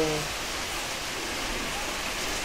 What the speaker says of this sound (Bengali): কি জোরে জোরে বৃষ্টি হচ্ছে